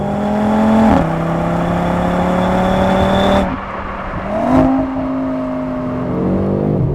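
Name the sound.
Audi RS3 2.5 litre 5-cylinder engine revving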